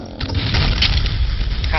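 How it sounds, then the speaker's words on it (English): Booming gunfire in the Duke Nukem 3D video game, a dense run of heavy low shots rolling together for a couple of seconds, loud and close with no talk over it. "Shoot this guy over here"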